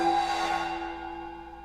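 A shimmering, sustained metallic drone with ringing overtones, like a bowed cymbal, slowly fading over a couple of seconds.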